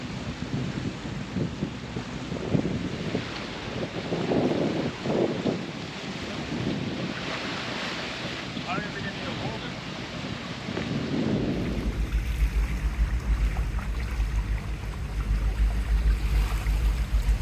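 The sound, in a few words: sailboat cruising downwind under spinnaker, wind and waves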